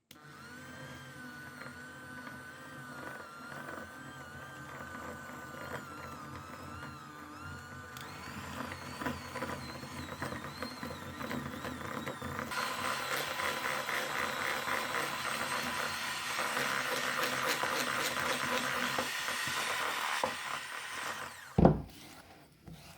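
An electric mixer whirs steadily while creaming butter and sugar for a raisin cake. The motor hum rises in pitch and intensity as sugar goes in, runs on for several seconds, then stops with a brief clunk.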